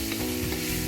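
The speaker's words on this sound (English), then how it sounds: "I'm just gonna stir a little bit and allow it to simmer for say 3 minutes" Chicken and green pepper stir fry simmering in a pan while being stirred, with a close, continuous sizzle and soft scraping movements over a short stretch, no voices.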